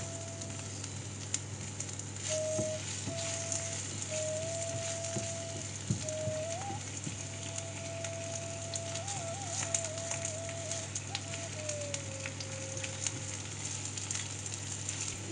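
Dry chilies and bay leaf fry in a pan with a steady, soft sizzle and light crackle, continuous and close, with a faint whistling tone wavering over it and no talking.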